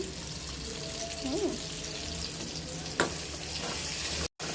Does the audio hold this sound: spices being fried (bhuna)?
yes